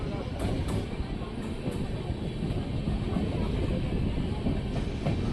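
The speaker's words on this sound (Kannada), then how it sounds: "ನಮ್ಮ ಟ್ರೈನ್ ಈಗ ಹಿಂದೂಪುರ ರೈಲು ನಿಲ್ದಾಣಕ್ಕೆ ಎಂಟ್ರಿ ಆಗ್ತಿದೆ." Karnataka Express train pulling into Hindupur railway station, a continuous rumbling roar of wheels and carriages heard from on board, with faint higher squeals at moments.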